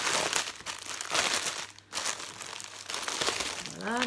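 Packets of diamond painting beads handled and sorted at close range, with continuous plastic crinkling and rustling that swells and eases in bursts and ends in a brief squeak.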